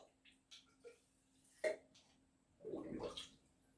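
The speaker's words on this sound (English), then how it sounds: "blowing some bubbles up in here." Air is blown into a jug of banana mead must, fermenting melomel, making a few short gurgles and a longer burbling run of bubbles near the end, faint and close with quiet pauses between.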